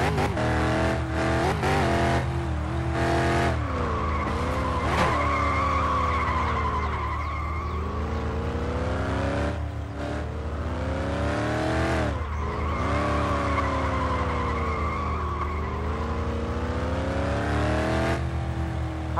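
A car in the driving game My Summer Car runs continuously with a loud engine drone and repeated rising and falling revs, sliding in pitch as it accelerates and eases off, with tire-squeal-like whine throughout and no talking.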